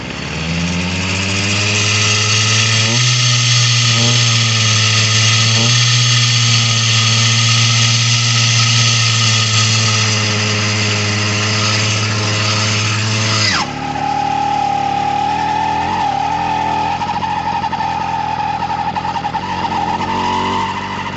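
A motorcycle engine running at a stubbornly high idle during a night ride, a loud steady droning hum that holds for over ten seconds, then shifts to a different pitch and keeps running, no talk.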